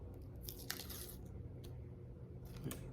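Paper backing being peeled off two-way tape while fitting cove base gives several short, close, crinkly tearing bursts separated by quiet pauses.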